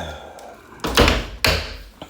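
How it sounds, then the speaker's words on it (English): An indoor door is pushed shut, giving two close, solid thuds about half a second apart, the second a firmer latching bang, with a quiet room around them. "Let me close the door, because I can already hear my dog going."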